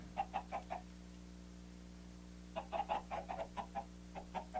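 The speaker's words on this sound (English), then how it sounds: "My chickens are cooking. Do you hear them?" Chickens cluck in a blocky mining-and-building video game, two bursts of rapid, close clucks separated by a pause, layered over a steady low mechanical hum.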